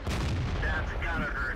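An AMX 13 90 light tank in World of Tanks fires its gun while moving across a fjord map, a loud close blast over rumbling engine and game noise, with a voice talking over it.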